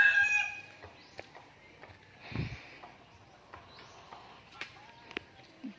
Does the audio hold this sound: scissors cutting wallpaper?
no